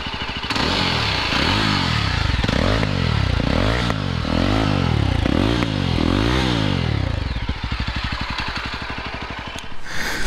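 A Yezdi Roadster motorcycle engine revs repeatedly in loud, rising and falling bursts, then settles into a rapid thumping idle through the exhaust, heard up close with no talk.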